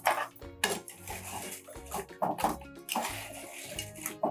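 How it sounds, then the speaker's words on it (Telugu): Fried bread pieces tipped into sugar syrup in a metal pan for double ka meetha and stirred, with repeated close clanks and scrapes of a utensil against the pan and soft wet squishes. "ఉడికించుకున్నాక ఇందాక వేయించుకున్న బ్రెడ్ పీసెస్ని ఇలా వేసుకోవాలి."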